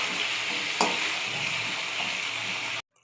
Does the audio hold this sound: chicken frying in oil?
yes